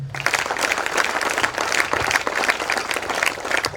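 Students in a school hall clap together, a dense, steady wash of many hands at close range filling the whole stretch, with faint pulsing hints of a shared rhythm.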